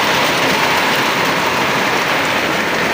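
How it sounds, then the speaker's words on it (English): Heavy rain pours down over a flooded area, a dense, loud, steady hiss of drops that stays constant throughout with no voices. "Wow, it is still too much rain, and out here it's so flooded."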